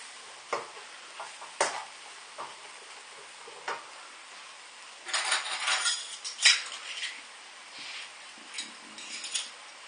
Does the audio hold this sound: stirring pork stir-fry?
yes